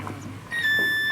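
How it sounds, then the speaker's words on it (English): An electronic voting machine gives a steady, high electronic beep after its button is pressed, a clear sustained tone rising over faint background murmur in a school setting. "we have to press the button against the symbol. So it gives the small beep sound"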